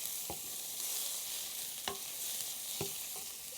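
Crushed garlic cooks with mushrooms in a pan for a creamy meatball sauce, giving a soft, even sizzle broken by a few brief stirring clicks.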